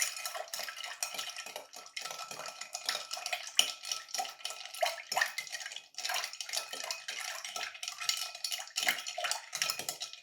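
Spoon clinking and scraping against the ice in a mixing glass as a zero-carb Old Fashioned is stirred, a steady run of bright rattles and clicks close up for the whole stretch, with no talk.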